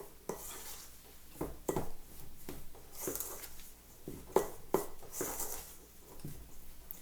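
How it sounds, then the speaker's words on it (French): Cookie dough for chocolate chip cookies, made with flour and shortening or butter, being mixed in a bowl: close, irregular scraping and knocking of a utensil against the bowl, with sharp clinks standing out, and no talking. "Maintenant, je mélange une autre fois."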